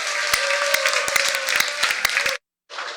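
Applause from a standing church congregation at a Sunday conference gathering, a dense wash of clapping with sharp individual claps and a steady tone running beneath, cutting off abruptly before resuming briefly.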